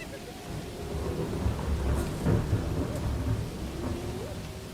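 Thunder and rain in a song recording: steady rainfall with low, rolling thunder rumbling at a moderate distance, heard alone without voices.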